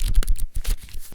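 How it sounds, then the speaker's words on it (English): Paper pages flick rapidly past a thumb in a quick, fluttering burst of soft slaps, close up and lasting about a second. "is me flicking through pages."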